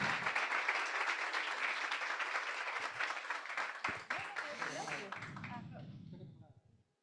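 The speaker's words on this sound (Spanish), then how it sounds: "Un aplauso." A seated audience applauds at the close of a public talk on generative AI. The clapping is full and continuous, then thins out and fades near the end as a voice and room murmur come through.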